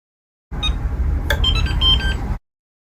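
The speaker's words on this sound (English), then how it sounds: "The sound you will hear represents the clock out being performed." A TimeWorkz Edge time clock sounds a beep as an employee clocks out: a single short electronic tone over a steady hum, with no talk.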